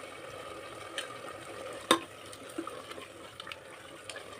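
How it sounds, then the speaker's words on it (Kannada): Tomatoes frying in a pan for pulao make a quiet, steady hiss of sizzling oil, broken once by a sharp clink and a few faint taps. "ಸ್ವಲ್ಪ ಫ್ರೈ ಆಗಲಿ ಟೊಮೆಟೊ ಹಣ್ಣು."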